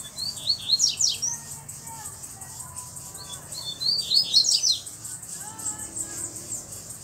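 A black Coleiro seedeater with a bluish-white bill, loose outdoors, sings two bursts of rapid high twittering phrases with lower whistled notes between, fairly close and clear over faint background noise.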